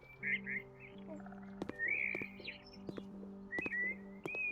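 Birds chirping in a garden in the House Flipper video game, repeated bright tweets and short whistles over a soft steady hum, with occasional sharp clicks in between.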